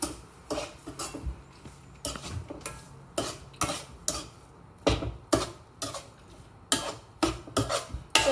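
Beetroot halwa being stirred in a pan, a spoon knocking and scraping against the metal in irregular sharp clacks, some close together, continuing throughout with no talking.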